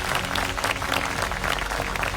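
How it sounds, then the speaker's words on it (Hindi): An audience applauds teachers at a NEET 2026 result celebration, a dense, steady wash of clapping that stays loud and unbroken for the whole stretch. "उन सब के लिए एक बार तालियां बजाइए।"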